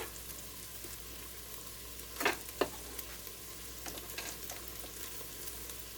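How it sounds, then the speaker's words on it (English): Mashed garlic added to onions frying in a pan, a soft steady sizzle with a couple of brief scraping stirs and clatters, faint and close. "So now I'm just going to go ahead and mash these and add that to our onions."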